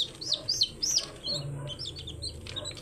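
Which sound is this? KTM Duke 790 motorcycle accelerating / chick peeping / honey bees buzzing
chick peeping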